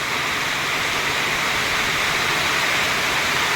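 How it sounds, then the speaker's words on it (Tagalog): Steady, dense hiss of heavy rain pouring continuously, loud and even throughout with no voices. "pag umulan ng malakas. Malakas yung ano, yung anggi."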